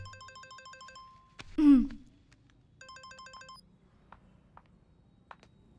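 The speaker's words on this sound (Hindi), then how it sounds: "फोन।" A phone ringtone sounds in a dubbed action film scene: two bursts of repeated electronic melodic tones, split by a sudden loud whooshing hit, followed by faint scattered ticks.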